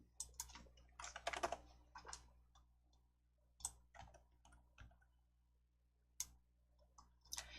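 Computer keyboard typing, faint scattered keystrokes and clicks arriving in short bursts and single taps with quiet gaps between, close by and without talk.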